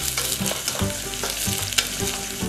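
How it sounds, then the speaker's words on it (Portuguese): A medium onion sizzles in olive oil in a hot pot over high heat for a shrimp and catupiry cheese dish, a continuous close crackling fry broken by the scrape and clack of stirring. "Vamos deixar aqui essa cebola por aproximadamente uns 2 minutos."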